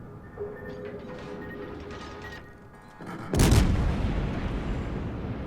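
A French tier-6 premium cruiser, the De Grasse, fires a gun salvo in World of Warships: after some low rumbling ambience, a loud sudden booming blast erupts and rolls out into a long, decaying roar.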